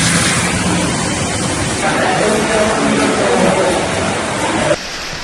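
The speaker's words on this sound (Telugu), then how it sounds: "పశ్చిమ శివారులోని బాంద్రాలో అత్యధికంగా 15 సెంటీమీటర్ల వర్షం కురవగా ఆ ప్రాంతమంతా చెరువులను తలపిస్తోంది" Heavy monsoon rain pouring over flooded streets in Mumbai's Bandra suburb, a dense, steady broadband roar that stays loud throughout, with muffled voices mixed faintly underneath before it cuts off abruptly near the end.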